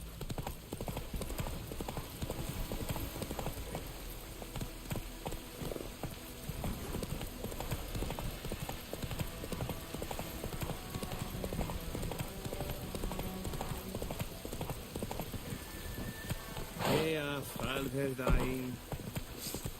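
Roach the horse clip-clops along in The Witcher 3, a steady rhythmic trot of hooves heard close throughout, with a voice speaking over it and a brief burst of other game sounds near the end.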